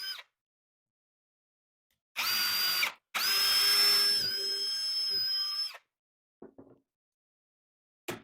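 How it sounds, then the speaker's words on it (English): A power drill whirs in two bursts, the second longer with a high whining pitch, followed by a couple of short clicks and taps. "then I can drill 2 holes"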